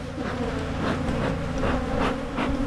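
A dense swarm of honeybees drones around opened hives during hive splitting, a loud, continuous buzz close by with individual bees rising and fading as they pass.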